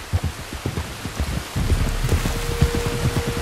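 Rain pours down in the Red Dead Redemption 2 game world, steady patter with irregular low thumps of heavier drops nearby, growing denser partway through, with a faint tonal hum joining later.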